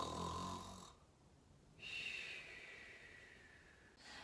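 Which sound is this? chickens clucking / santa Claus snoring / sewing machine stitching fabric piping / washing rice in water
santa Claus snoring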